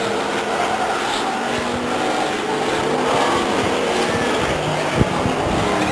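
Race cars running laps at Stockton 99 Speedway during a 1999 oval race, a continuous loud engine roar with broad noise and a brief sharp spike near the end, no voices.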